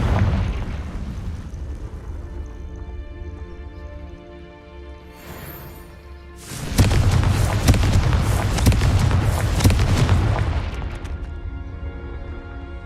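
A Confringo fire spell detonates in a video game battle, a loud roaring blast that bursts in suddenly and rumbles on for several seconds before fading.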